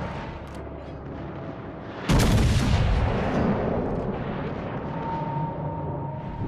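Naval artillery fire in World of Warships: Legends: a single heavy, close gun blast erupts suddenly and rolls away into a long fading rumble over the low hum of the ship.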